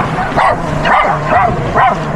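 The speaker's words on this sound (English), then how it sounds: "Had some people looking over the wall at the dogs, seeing what they were barking at, and Cosmo was just barking at" A dog on a beach barks repeatedly at a steady rhythm, four loud close barks in quick succession.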